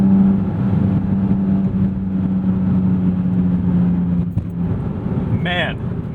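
A Porsche sports car with a PDK gearbox accelerates and short-shifts below full throttle, giving a loud, close engine note with a steady tone that breaks at a quick gear change. A voice briefly cuts in near the end.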